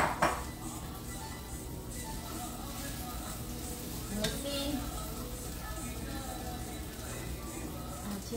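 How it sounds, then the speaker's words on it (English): Onions sauté in a pan for fajitas, giving a soft, steady sizzle with occasional utensil clinks against the pan at close range, fairly quiet, with a few faint background sounds. "So I saute my onions first."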